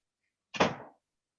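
A single short knock or thump on a door, brief and fairly close, in an otherwise silent room.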